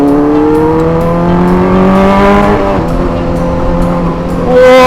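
A 600cc inline four-cylinder motorcycle fitted with a loud aftermarket exhaust revs hard and close, its tone climbing, falling and swelling again in one continuous loud roar.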